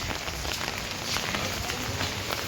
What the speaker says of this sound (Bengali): এই মুসুলধারে কিন্তু বৃষ্টিটা পড়েই যাচ্ছে